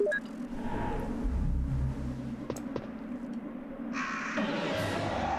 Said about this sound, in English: I hear the worrying call of crows.